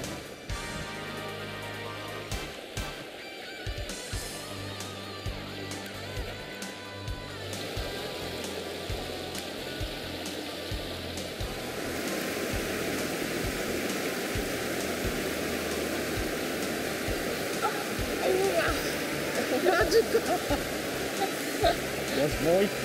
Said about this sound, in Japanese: 水のせせらぎもいい音だし